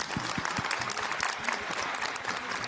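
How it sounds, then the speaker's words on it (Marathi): Loud, dense clapping from a studio audience on a Marathi music reality show, a close burst of sustained applause with a few sharp individual claps standing out near the start. "एकदा संगीत सम्राटसाठी जोरदार टाळ्या होऊन जाऊ द्या बरं."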